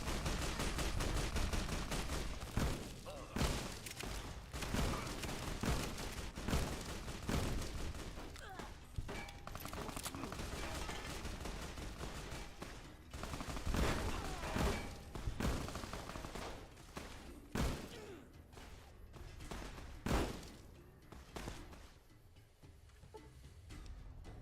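Sustained gunfire in a modded Fallout: New Vegas session, dense rapid bursts and sharp cracks rolling almost without pause, loud and constant, with heavy booming shots standing out.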